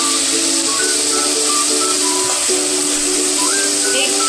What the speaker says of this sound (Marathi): आपल्याला घालायची आहे पेस्ट आला लसूण मिरची आणि कोथिंबीरची पेस्ट ती परतून घ्यायची